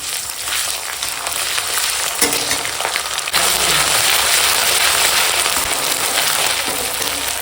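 Onion and green chili fry in hot oil with whole spices, a loud steady crackling sizzle that surges sharply when ginger-garlic-cumin paste goes into the pan, then stays intense.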